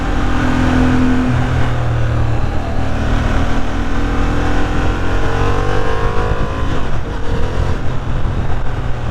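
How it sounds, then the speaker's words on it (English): A 2023 Honda CB750 Hornet parallel-twin motorcycle engine runs steadily and loudly close by, its throaty rumble rising and falling slightly as it revs, with no talking. "I'm not a big fan of parallel twins, but yeah, this bike sounds good."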